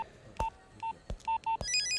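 A cell phone number is dialed: about five crisp, separate keypad tones beep close by in quick, uneven succession, ending with a short trilling ring.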